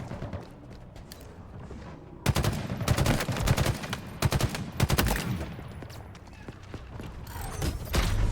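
Rapid gunfire in the video game Halo Infinite, starting after a quiet stretch with loud clustered shots and mechanical clatter, bursts continuing intermittently close up over game background.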